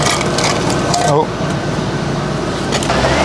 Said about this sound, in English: This is the first time the car's moved under its own steam for a long time.